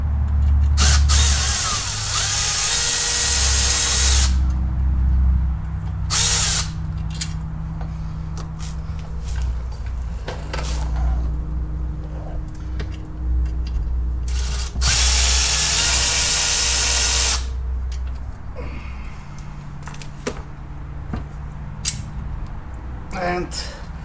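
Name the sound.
power tool removing bolts on Porsche Boxster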